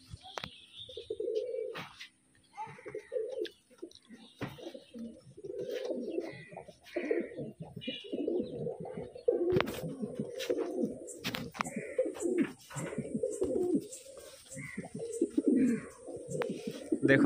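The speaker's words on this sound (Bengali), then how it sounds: "এই হচ্ছে পায়রা," Two pairs of kept pigeons coo close by in soft, throaty, repeated rolling calls that continue throughout, with faint chirps and light background noise between the phrases.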